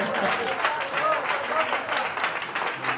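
A church congregation applauds: a sustained wash of many hands clapping, with voices mixed into the crowd noise for the whole stretch.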